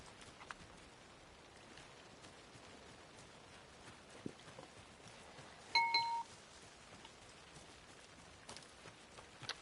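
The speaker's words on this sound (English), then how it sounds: "You all know what that bell means." A single bright bell tone from the town bell in Alan Wake 2, struck once about midway through a quiet, faint background of soft rain-like noise.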